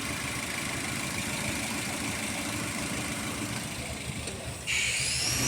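Car engine idling steadily at a low, even rumble in a workshop during periodic service on a lift, with the running note dropping off near the end as the engine is switched off.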